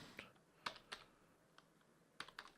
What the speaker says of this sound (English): I'm gonna type in token